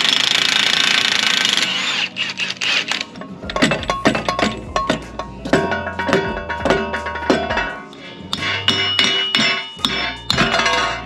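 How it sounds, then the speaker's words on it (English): Power tool loosening a car axle nut, a loud close hammering impact burst at first, then a string of sharp clanks and metallic clinks in irregular rhythm as parts are worked free. "All right, I gotta get the axle nut off."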